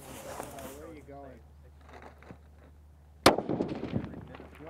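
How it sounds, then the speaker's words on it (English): A single sharp, loud rifle shot from a Ruger Precision Rifle in .243 at an outdoor long-range shooting session, with a short rolling echo after it and people talking beforehand. "give it a shot on the Ruger Precision Rifle in 243"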